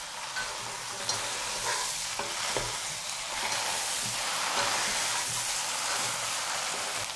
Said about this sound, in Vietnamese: Sau đó thì mình mở bếp trở lại và xào cho lòng săn ha, cho thấm hỗn hợp gia vị.